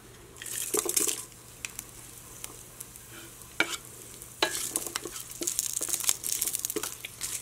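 Cumin seeds, garlic cloves and red chillies frying in hot oil for peanut chutney, a steady crackling sizzle with bursts of spluttering and stirring scrapes, close and fairly loud, without speech.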